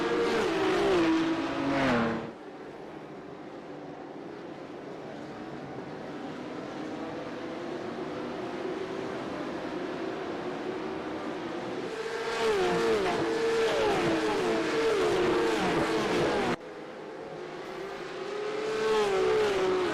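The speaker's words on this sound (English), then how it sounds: "green flag flies, we're off and away at Montreal" Porsche Cup race cars roar off the start of a Montreal sim race video game, engines droning and revving loudly together, with sharp shifts and swelling bursts of acceleration.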